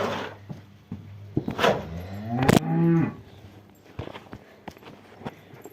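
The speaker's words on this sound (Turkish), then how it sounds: "ineklerini suluyoruz yavaş yavaş" Cattle on a village farm low as they are watered: a single drawn-out moo near the middle, with hoof clops, footsteps and scattered knocks in a quiet barnyard.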